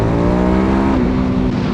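A Suzuki DRZ 400SM single-cylinder four-stroke supermoto engine runs loud and steady at elevated revs, close to the listener, with a continuous throbbing drone and no pauses.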